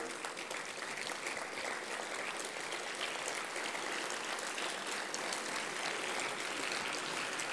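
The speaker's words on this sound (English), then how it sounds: "please give them a round of applause" Teachers and students at a school assembly clap in steady, even applause that fills the hall, heard from some distance and fairly soft, with no speech on top.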